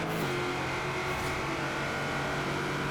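Cadillac limousine racing in Forza Horizon 4 online, its engine holding a steady, loud drone with a brief shift in pitch near the start, continuous throughout with no talk.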